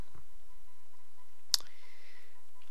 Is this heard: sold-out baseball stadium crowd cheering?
no